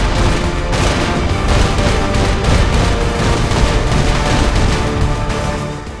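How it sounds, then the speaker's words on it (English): Massive sustained explosion as a battleship is blown up in Saints Row 4, a dense, loud roar of blasts and crashing debris rumbling continuously with no letup. "You blew it up!"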